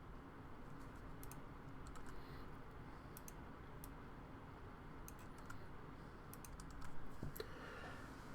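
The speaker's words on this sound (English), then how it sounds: "just to save you the agony of watching me type" Faint, steady clicking of keys being typed on a computer keyboard in a quiet room, with a low background hum and a slightly louder cluster of keystrokes near the end.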